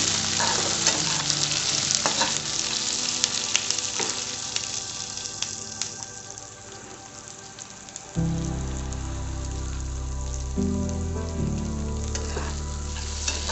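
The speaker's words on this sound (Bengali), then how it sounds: "পেঁয়াজটা আমি বেশ ভালোভাবে পিঙ্ক হওয়া অবধি ভেজে নিচ্ছি" Onions fry in a wok until pink and give off a steady, dense sizzle like heavy rain, with a few stirring scrapes. Partway through, a low, droning musical hum rises beneath the hiss, and no one speaks.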